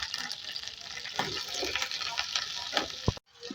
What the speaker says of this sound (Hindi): यहाँ पे भिंडी जो है ये फ्राई हो रही है